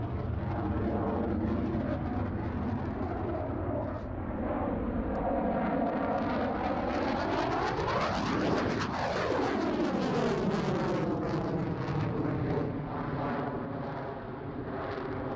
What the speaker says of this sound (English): The next RAF type was the Tornado F3.